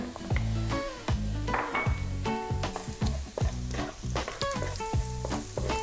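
Ginger sautéing in a pan for a Filipino-style chicken curry: steady close sizzle with the scrape and clink of a utensil stirring, over a tonal background that runs throughout.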